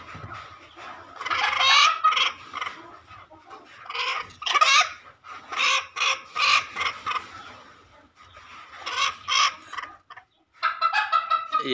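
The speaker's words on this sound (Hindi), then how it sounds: "ये बैठी है मुर्गी इंग्लिश गेम के अंडा देने के लिए" An English game hen sitting on eggs in a pheasant and chakor farm pen gives repeated close clucks and short squawking calls in uneven bursts, with brief pauses between them and no voices.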